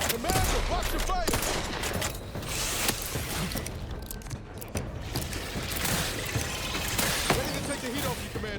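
Gunfire in the sci-fi shooter The Outer Worlds 2: dense, continuous bursts of shots and mechanical clatter over about eight seconds, with voices calling out over the fighting.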